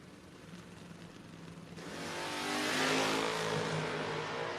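Drag racing cars, a Vega wagon against a Ford in a no-box 660 shootout, engines droning at a distance then swelling to a loud roaring pass as they accelerate down the track.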